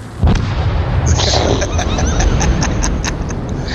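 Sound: weapon firing in a video game

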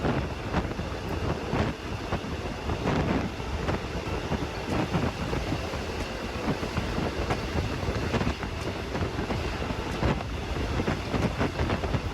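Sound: train running on the Bangkok high-speed rail line

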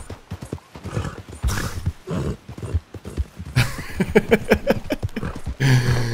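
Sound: horse hooves in video game Red Dead Redemption 2

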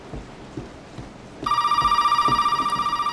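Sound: telephone ringing in Resident Evil 7 video game

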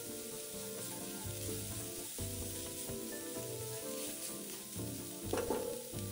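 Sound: stir-frying minced meat in a wok

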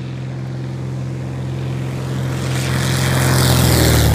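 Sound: propeller airplane taking off

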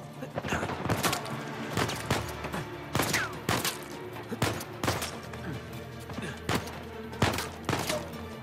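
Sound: gunfire in Uncharted 4, video game

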